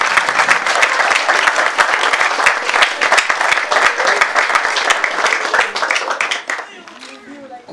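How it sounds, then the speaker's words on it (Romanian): Loud, sustained applause from an audience for volunteers at a civic project event in Moinesti, dense clapping that fades out near the end. "aș dori să vă rog să-i mai aplaudăm o dată pe voluntarii de aici"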